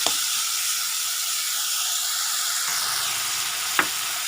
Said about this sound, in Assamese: আলু সিজিবৰ কাৰণে অকণমান পানী দিলোঁ